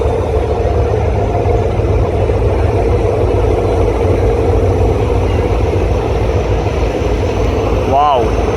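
Passenger launch Farhan 7 pulls away from a river ghat at speed, its engine a steady loud drone with a brief rising horn-like tone near the end.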